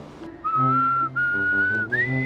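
A person whistles a slow tune of long sustained notes, clear and close, with no talking.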